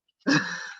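A single sneeze during a public housing authority meeting: a sharp, fairly loud burst after near silence that trails off over about half a second. No other sound around it.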